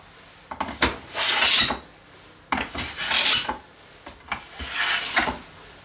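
Hand plane skimming the surface of an end grain wooden cutting board: three rasping strokes, each starting with a scrape and rising into a loud rough hiss, with short pauses between them.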